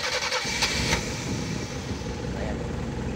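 Car engine cranking and catching after a fuel filter repair, with a sharp start near the beginning followed by a steady, loud running drone close by.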